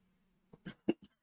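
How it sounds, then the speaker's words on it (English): A man with something stuck in his throat coughs in a short run of about four or five dry, close bursts over a faint background hum. "I'm so sorry for my coughing and stuff."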